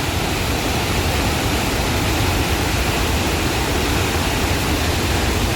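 Dense, continuous roar of water crashing forcefully at the Bhedaghat falls on the Narmada river, heard up close as an unbroken wash of noise.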